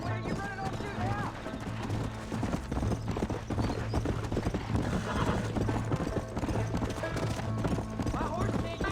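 A horse gallops in the Western video game Red Dead Redemption, steady rhythmic hoofbeats with a neigh, mixed under game music and spoken dialogue.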